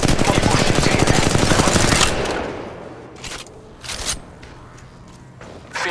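Rapid automatic gunfire in the mobile shooter Apex Legends Mobile, a dense loud burst for about two seconds, then a few scattered shorter bursts and thumps further off.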